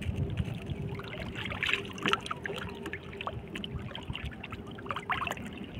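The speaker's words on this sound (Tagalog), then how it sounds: "Lakas ng agos." A strong river current rushes past at a fishing spot, a fairly faint, continuous watery wash with scattered small splashes and gurgles.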